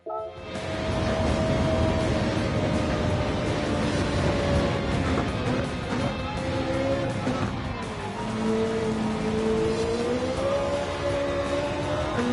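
Race car in a racing video game lapping the Nürburgring, its engine a steady, loud tone that rises and falls with shifts, continuous throughout with no one talking.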